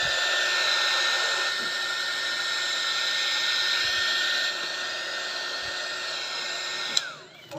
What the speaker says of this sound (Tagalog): blower din muna natin kasi walang araw ngayon mga kadiwi. Kailangan matuyo kasi ng maganda to eh